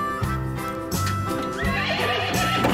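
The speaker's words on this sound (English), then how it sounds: "Black and white horse." A toy horse's neigh, a series of loud whinnies with harmonic pitch sweeps, plays over a bright musical backing track with a steady beat.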